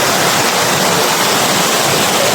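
Stream water rushing at the base of a 120-foot waterfall, a loud, steady broadband roar that fills the clip with no breaks.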